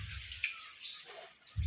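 Water runs from a tap in a soft, steady hiss with a few brief splashes and drips, fairly close and without talk.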